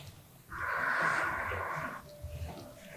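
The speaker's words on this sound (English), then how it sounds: "As I breathe in and breathe out." Steady breathing during a guided core and pelvic floor exercise, with one long, breathy exhale lasting about a second and a half, close and moderately loud, between quieter stretches.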